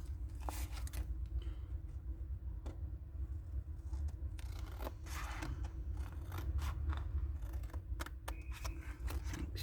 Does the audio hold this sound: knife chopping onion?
no